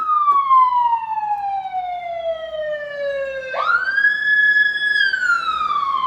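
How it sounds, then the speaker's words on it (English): An ambulance siren wails close by, one long falling tone that jumps abruptly up into a steadier high wail as it passes, loud and clear over faint road noise. "Ambulance."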